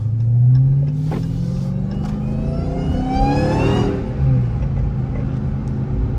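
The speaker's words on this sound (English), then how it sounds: "I got stock exhaust too, so my shit don't sound crazy." A Dodge Hellcat with stock exhaust accelerating at night, its engine rumble rising in pitch through a long, loud pull before settling back to a steady drone, heard from inside the car.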